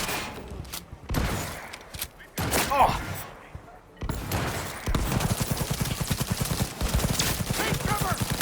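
Rapid bursts of gunfire in Cyberpunk 2077, loud and close, with a dense run of repeated shots in the second half and shouted voices mixed in between volleys.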